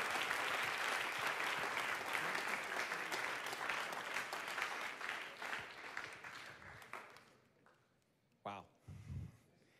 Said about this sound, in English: Let's clap our hands to the Lord one more time.